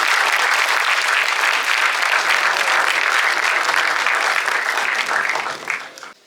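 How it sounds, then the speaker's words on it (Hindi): Loud, dense applause from a large audience welcoming the Governor, Shri Ganga Prasad, at a formal address, sustained and even before tapering off at the end. "महामहिम राज्यपाल गंगा प्रसाद जी जोरदार तालियों के साथ स्वागत करें।"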